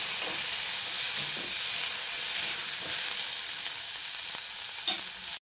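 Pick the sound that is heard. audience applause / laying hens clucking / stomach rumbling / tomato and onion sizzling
tomato and onion sizzling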